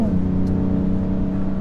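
A BMW M3 turbo engine runs steadily at a held rev, giving a continuous droning engine tone with no talk over it.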